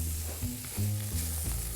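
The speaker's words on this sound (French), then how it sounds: "On va mélanger cette farine qui va venir accrocher tout ce qu'il y a dans la casserole." A spoon stirs flour into sizzling beef for a beef and carrot stew in a saucepan, making rhythmic scraping strokes over a constant frying crackle, close up.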